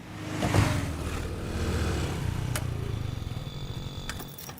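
A car engine runs as the car is driven away to be parked, a low hum that swells briefly then settles into a steady mid-level drone, with a few sharp clicks near the end.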